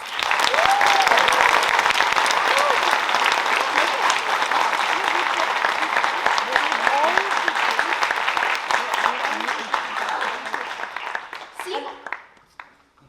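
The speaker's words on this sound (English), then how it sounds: "Let's give them a huge round of applause." Loud, sustained applause from a large audience, dense clapping that holds steady then fades out near the end, with some voices mixed in.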